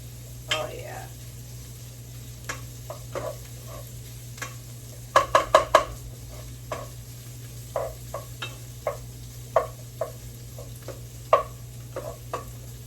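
Bacon, onions and garlic sizzle in a pan for bacon sriracha chili: a steady low frying hiss under a background hum, broken by scattered clicks and scrapes of stirring.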